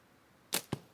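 A slingshot with a non-slip pouch fires at a spinner target: two sharp, close cracks about a fifth of a second apart break an otherwise quiet moment.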